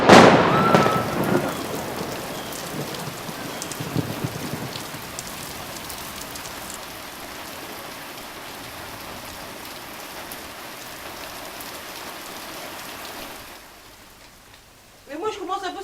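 Steady rain falls outdoors, a dense even hiss that runs for most of the stretch after a louder opening burst, then fades near the end before a brief voice.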